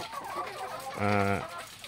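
Chickens in a well-ventilated poultry house, eating eagerly; a brief clucking call rises about midway above a steady murmur of birds and barn noise.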